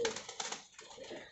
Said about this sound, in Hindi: ये देखें ये कबूतर है